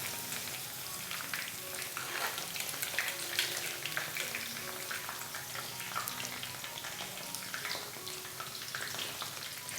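Chicken pieces for restaurant-style chilli chicken deep-frying in hot oil, giving a steady, close crackling sizzle with dense bubbling that runs evenly throughout with no talking.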